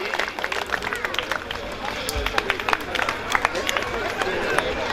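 Audience applause at an outdoor dance stage event in Etawah district, a rough, uneven crowd clapping with pops and bursts, heard at moderate level amid crowd babble and voices.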